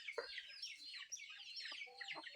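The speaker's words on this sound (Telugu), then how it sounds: "ఇలా కోళ్ళు అనేవి అనేక రకాలు తింటాయి" Chickens cluck and chatter in a farm field, with several birds calling in short overlapping clucks and squawks at close to moderate distance and no talk.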